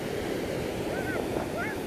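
Ocean surf on the California coast, a steady soft wash of waves with wind noise on the microphone, fairly faint, while a voice talks lightly over it.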